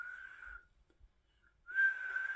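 Two sustained, steady whistles meant for herding cattle, heard near and fairly loud in a quiet indoor setting, separated by a short pause.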